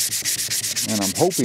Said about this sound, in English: sanding this stock down, getting the old finish off and getting all the imperfections out of the wood